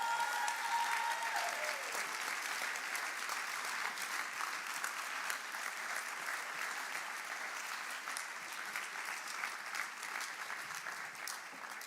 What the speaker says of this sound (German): Jetzt wollen wir diesen beiden doch einen grossen Applaus geben